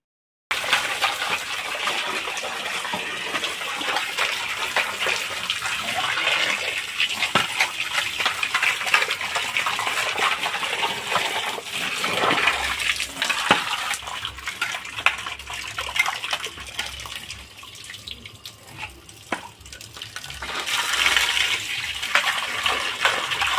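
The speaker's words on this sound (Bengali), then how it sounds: "আমার মাছগুলো পিস করা হয়ে গেছে। এখন আমি সুন্দর করে ধুয়ে নেব।" Cut rohu fish pieces being washed in water, a continuous close gushing and splashing of running water with handling sounds throughout, no voices.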